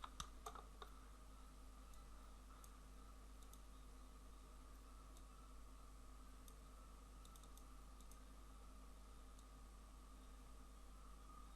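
Faint typing on a computer keyboard: sparse, irregular key clicks, a little busier at the start, over a steady low hum and hiss.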